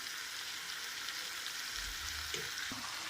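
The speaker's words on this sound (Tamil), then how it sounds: "வதங்கினதில் நம்ம மேரினேட் பண்ண சிக்கனை ஆட் பண்ணிடுறோம்." Marinated chicken for a Kerala-style chicken roast is tipped onto sautéed onions in a hot pan, giving a steady close hiss of sizzling with a few low thuds and clatters toward the end.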